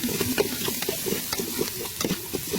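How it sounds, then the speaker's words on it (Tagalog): Papaitan ingredients being sautéed in a pan, a steady close sizzle with repeated stirring scrapes and clatters throughout, no voices. "Igisa muna natin guys bago natin tubigan."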